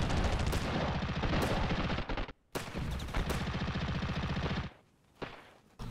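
Rapid automatic fire from a 5.56 machine gun in the video game Ravenfield, loud and close, sounding as several sustained bursts with short gaps between them.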